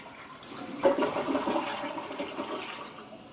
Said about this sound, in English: Let's flush it down.